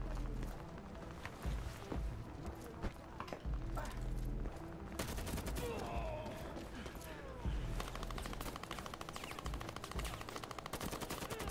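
Rapid bursts of automatic gunfire and scattered single shots from a video game trailer, loud and dense over a busy soundtrack of music and effects, with a few heavy booming hits.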